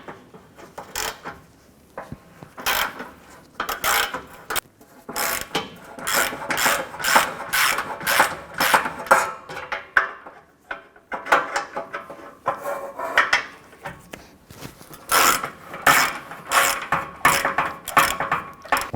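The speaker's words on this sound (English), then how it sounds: "Using our 14mm socket, we're going to go ahead and loosen these 3 bolts." A 14mm socket ratchet loosens bolts on a 2012-2017 Toyota Camry bumper, giving repeated bursts of sharp ratcheting clicks with short pauses between strokes, close and fairly loud with no talking.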